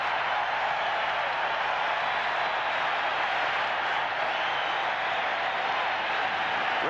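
Steady roar of a large basketball crowd filling the Forum in Inglewood during Game 1 of the 1987 NBA Finals, Lakers against Celtics, a continuous loud broadband wash with no distinct peaks.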